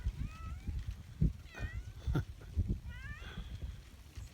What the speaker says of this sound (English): Still meowing too.